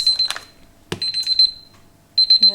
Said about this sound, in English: The timer.